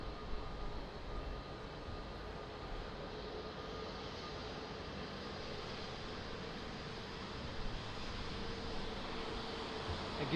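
An airliner lands at Lisbon Airport, its engines giving a steady, broad roar of jet noise and rushing air that holds at an even level throughout, with no voices.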